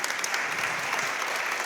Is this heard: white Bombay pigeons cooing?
no